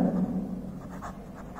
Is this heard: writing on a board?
yes